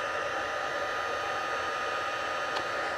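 A heat tool blows steadily and close, a constant loud airy whoosh with no pauses as it dries ink on foil cardstock over a Teflon mat.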